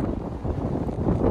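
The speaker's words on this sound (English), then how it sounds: "It's really windy." Steady, gusty wind buffets a microphone on the front deck of a cruise ship, a dense low roar with a faint background rumble of the vessel underway, no voices.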